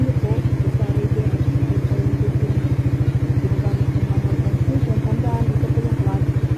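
A motorcycle idles in neutral close by, its engine putting out a steady, rapid low putter with an even rhythm, running alone throughout.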